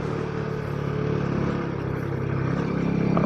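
A Royal Enfield Himalayan 450 motorcycle engine held at high revs, around 5,000 to 6,000 rpm, while riding mountain twisties, giving a steady, loud, continuous drone with a slight rise toward the end.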